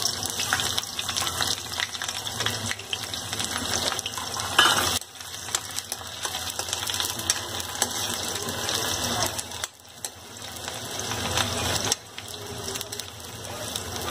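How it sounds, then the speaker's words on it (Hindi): Onions fry in hot oil in a home kitchen, giving a dense, close crackling sizzle that runs steadily with a few brief dips and no talking. "ऑयल गर्म हो चुका है, मैं इसमें अनियन डाल दूंगी"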